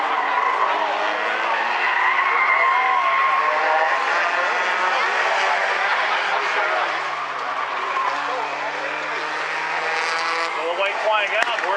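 Race cars roaring around South Sound Speedway during a trophy dash and heat races, a loud continuous engine drone with tire skid and squeal, a race announcer talking over it throughout.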